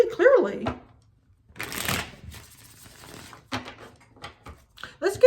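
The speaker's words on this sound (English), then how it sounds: "I'm going to go into the tarot now, and I'm going to pull 3 more cards" Tarot cards being shuffled and drawn by hand, with a riffling burst near the middle and scattered card slaps and shuffles between bouts of nearby talk.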